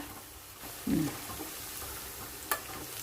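Coated gobi manchurian cauliflower pieces frying in hot oil, a soft steady sizzle with a brief louder burst near the start and a sharp clink later, no talking.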